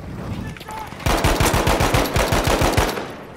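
Rapid bursts of M1A1 Carbine gunfire in Battlefield 5, a quick string of about a dozen loud, closely spaced shots beginning about a second in and running steadily, with no talk over them.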